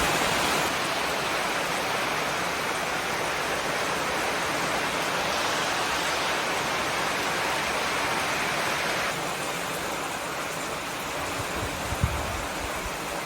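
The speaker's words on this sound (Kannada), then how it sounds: "ಜೋರು ಮಳೆ ಬರ್ತಾ ಉಂಟು" Heavy rain driven by strong wind roars as a dense, steady wash of noise, with no voices over it and only a slight drop in intensity toward the end.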